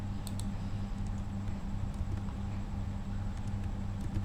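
Computer keys click close by in short, irregular bursts as text is copied and pasted. A low steady hum sits underneath and no one talks.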